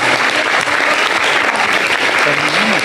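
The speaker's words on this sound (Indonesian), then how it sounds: "Tepuk tangan." Loud, dense audience applause at a public dialogue event with Pope Francis, sustained without letup, with faint voices mixed underneath.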